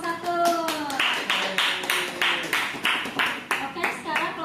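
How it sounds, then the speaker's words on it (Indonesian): A classroom of students claps for a presenting group during a micro-teaching session, with a short burst of rhythmic clapping that follows a brief spoken line. "Tepuk tangan untuk kelompok 1."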